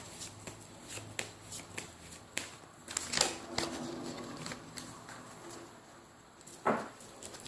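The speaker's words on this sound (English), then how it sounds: "Do another quick shuffle." Tarot cards being shuffled by hand during a reading, a quiet series of soft riffling flicks and taps at close range with brief pauses between them.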